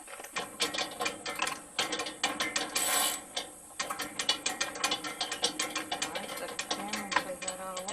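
A socket wrench ratchets on a 17 mm nut on a reel mower during carburetor fitting, giving rapid, close clicking bursts that recur steadily with short pauses in between.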